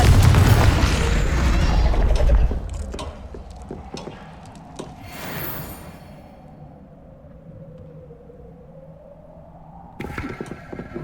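A Confringo spell explodes in Hogwarts Legacy with a loud, close, rumbling blast that decays over a couple of seconds, then a quieter whoosh and lingering low tones.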